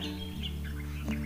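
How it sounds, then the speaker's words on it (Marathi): Birds chirping outdoors at dawn in a cold village, several short tweets and calls scattered across the moment, fairly faint and distant over a steady low hum, with no talking. "पक्ष्यांचे आवाज"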